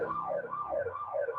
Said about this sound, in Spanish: Seguro es que escuchan la alarma.